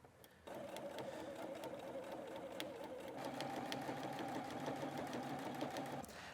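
A sewing machine stitching tack-down lines through a quilted trucker hat runs in one steady, even whir with a fast needle rhythm, starting after a brief pause and stopping near the end, close and fairly quiet.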